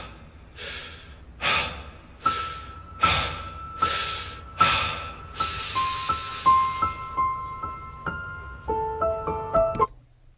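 Heavy rhythmic breathing from a singer in a song, a series of about seven loud sharp breaths at a steady pace, followed by softer breathing under thin tones, up close.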